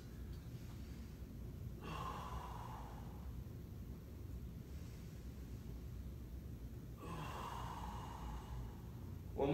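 Deep yoga breaths during a stretch: two long, audible inhale-exhale cycles, close and steady over a quiet room hum, with no talking.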